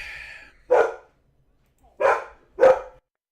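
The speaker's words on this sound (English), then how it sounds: "Apologies for the dog." A single dog gives three loud, close barks: one near the start, then a quiet gap, then two close together near the end.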